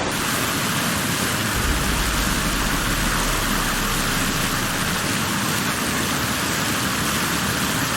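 Heavy, pouring rain falls at night during a deadly flood in China caused by failing dams. It makes a steady, dense hiss that fills the whole eight seconds, with no voices.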